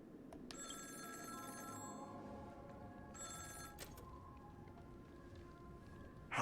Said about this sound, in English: I honestly forgot about this phone call.